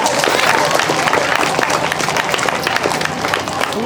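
Clapping and crowd noise from the audience at a primary school annual day function, loud and continuous, with people talking and calling out within it.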